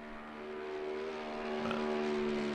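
A Mercedes-AMG GT3 Evo race car engine in Assetto Corsa Competizione drones at high pitch at Mount Panorama, holding a steady tone then climbing slightly as it revs harder, loud and continuous with no talking.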